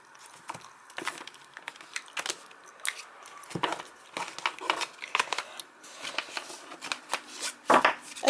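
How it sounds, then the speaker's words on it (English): A tarot deck is split and shuffled by hand up close, with irregular crisp card slaps, riffles and papery rustles spread through the recording. "So let me split and pack my cards"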